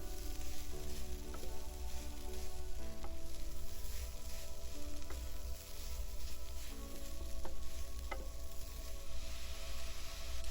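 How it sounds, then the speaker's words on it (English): Vegetables in pineapple fried rice with shrimp stirred in a hot pan, a steady loud sizzle with occasional scraping and tapping of the utensil, close up and without talk. "Stir and let every ingredient get in touch with each other and evenly spread out."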